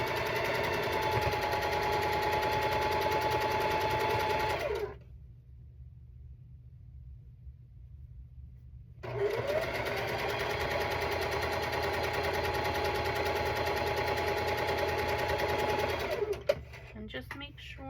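A sewing machine stitches the final line of a cat-themed quilt, running steadily for about five seconds, pausing into near silence, then starting again for a long continuous run close by.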